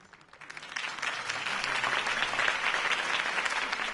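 A crowd applauding in a Batman video game, steady dense clapping that swells in the first second and holds at a moderate level, sounding a bit distant.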